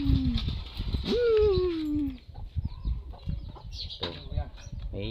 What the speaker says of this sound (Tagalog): May alaga kami din mga manok.